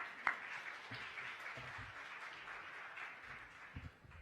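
Audience applause for a professor at an academic conference on restructuring and insolvency, soft, fairly distant clapping that holds steadily throughout, with a few sharper claps and faint murmurs.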